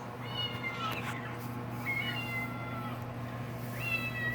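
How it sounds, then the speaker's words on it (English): Gray female kittens give several high, thin meows, close up over a steady low electrical hum, with short gaps between calls. "They're gorgeous kitties."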